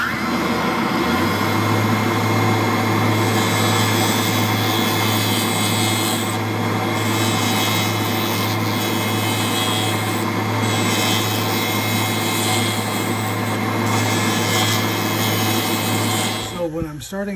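A carbide tool cuts a wooden pen body on a spinning lathe, a steady, loud scraping and rubbing over a low motor hum that continues unbroken, fading only at the very end.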